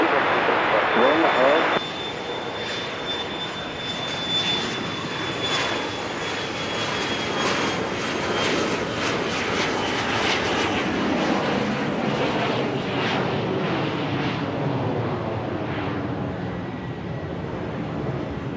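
Southwest airliner landing at Dallas Love Field at night, a loud whining jet roar that swells and rumbles as the aircraft passes, with a high tone briefly audible early on.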